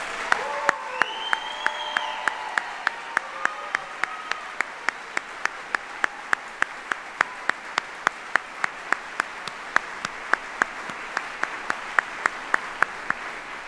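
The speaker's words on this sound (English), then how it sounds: "please again join me in a round of applause for these 35 great soldiers" Audience at an Army retirement ceremony in Conmy Hall, Arlington, applauds 35 retiring soldiers: steady, dense clapping from a large crowd, with occasional louder claps near the front, sustained throughout.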